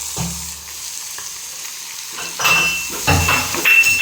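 Tomatoes frying and being stirred in a pan with chilli powder, giving a close, loud sizzle with scraping stirs and a few light clinks of utensil on pan, growing louder partway through.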